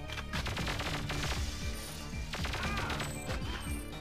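Rapid gunfire in the Nintendo 64 game Perfect Dark rattles in dense automatic bursts with booming impacts, loud and continuous over a few seconds, with no talk.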